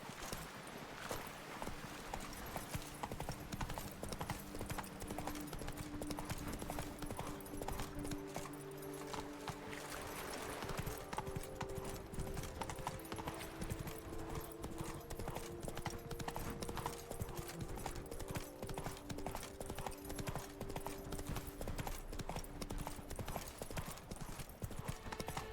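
Roach, Geralt's horse in The Witcher 3: Blood and Wine, gallops with a fast, continuous drum of hooves, loud and close throughout, over game music and ambience, with an occasional faint voice in the mix.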